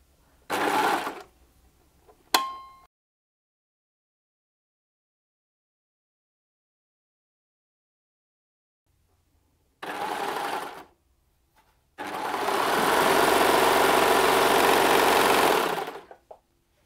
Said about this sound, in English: I'm just going to overlock all the way around to finish that off